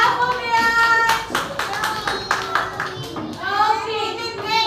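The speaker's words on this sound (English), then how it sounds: "clap for Priyansh." Children in a classroom clap together for a classmate, a dense run of hand claps lasting several seconds with a brief dip in the middle, under a teacher's voice.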